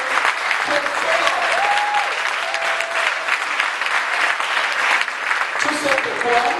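A church congregation applauds loudly and continuously, with a dense wash of clapping and some crowd voices mixed in throughout.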